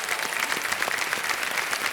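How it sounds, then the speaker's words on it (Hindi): A studio audience at a televised quiz show welcomes a contestant, a gynecologist, with a brief burst of dense, lively clapping that holds steady throughout. "तालियों के साथ आपका स्वागत करते हैं"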